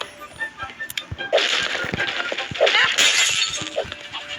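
Glass shatters and breaks indoors in a series of sharp crashes, with bright tinkling bursts of falling shards and a brief voice before the loudest break.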